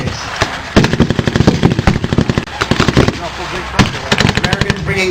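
Loud close bursts of automatic machine gun fire mixed with sharper rifle shots at a World War 2 reenactment, MP40s and K98Ks among the weapons, rattling in repeated volleys with voices underneath.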